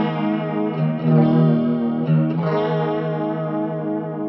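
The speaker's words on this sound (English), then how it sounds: "So it has more of that analog vintage chorus kind of sound" Electric guitar played through a Walrus Audio Julia analog chorus pedal, sustained chords with a warm, wavering vintage chorus shimmer, re-struck a couple of times and ringing steadily up close.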